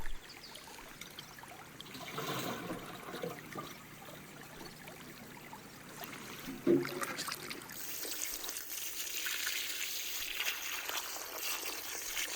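Water is poured for vegetable plants in a garden, a soft trickling stream that rises and falls in the quiet, with one brief knock midway and a fuller rush later.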